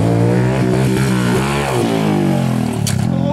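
A pit bike engine revs hard and close during a ramp jump, its pitch rising and wavering through several throttle blips before easing off and sputtering near the end.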